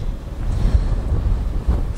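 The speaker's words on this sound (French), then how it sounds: "Il y a beaucoup de vent." Strong wind buffets the microphone at horse stables, a close, loud, rumbling gusting roar that swells and surges throughout.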